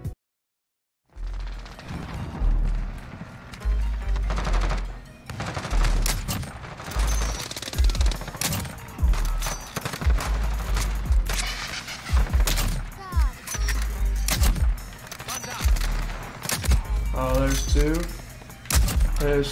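Sniper fire in Call of Duty Modern Warfare rings out as repeated sharp, heavy shots among clattering bolt and reload sounds and impacts, loud and close, with a voice talking over the action now and then.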